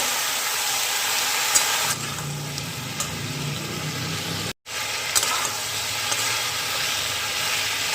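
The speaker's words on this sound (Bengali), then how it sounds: "দু চার মিনিটের মতো একটু ভালো করে ভেজে নেব যাতে হলুদের কাঁচা গন্ধটা না থাকে" Vegetables with turmeric and salt frying in a pan, a steady hissing sizzle that thickens partway through, with a brief dropout in the sound, close and moderately loud, no speech.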